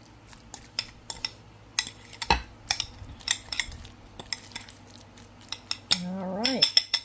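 Fish taco ingredients for mahi mahi tacos being mixed in a bowl, with a rapid series of close clinks and scrapes of a utensil against the dish.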